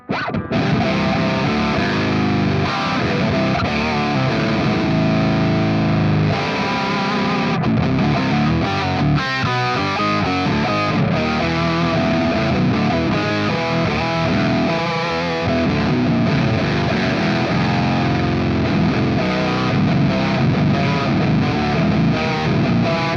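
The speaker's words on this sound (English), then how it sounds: "this is the thick rhythm with an octave down, so you get this" Thick, heavily distorted rhythm guitar through a Fractal Audio preset with a low octave doubling, played continuously at steady volume with chugging rhythmic chords and no voices.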